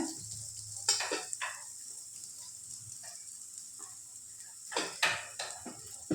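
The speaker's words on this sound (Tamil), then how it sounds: "அதனால் நாம் இந்த உதுத்து வச்சுருக்கிற பருப்பூசலிக்கான பருப்பை உதுத்ததை இப்படி போட போகிறோம்." Crumbled roasted lentils for paruppu usili go into a hot pan and get stirred, a soft sizzle under sharp scrapes and clinks of a utensil against the pan in irregular bursts, close up.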